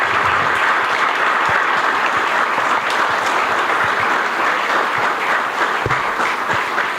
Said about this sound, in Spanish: Así que para ellos un fuerte aplauso